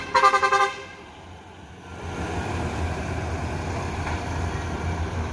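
An Al Hijrah Suite Combi bus pulling out of Terminal Baris Solok: a short burst of horn toots at the start, then a low rumbling engine and traffic noise building steadily.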